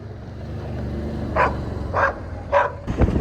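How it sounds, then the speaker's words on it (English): A farm dog barks in three spaced bursts, fairly close, over a steady low rumble of a New Holland T7.210 tractor idling nearby, with a sharper thud at the end. "What are you barking at?"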